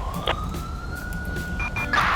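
A police or ambulance siren in GTA V with the LSPDFR mod wails in a steady rising tone over a constant engine rumble, loud and close.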